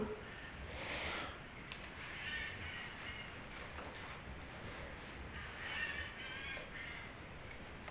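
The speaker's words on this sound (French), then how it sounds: "On entend les oiseaux." Birds call outdoors, faint and somewhat distant, with scattered caw-like notes and chirps over a soft, steady background hiss.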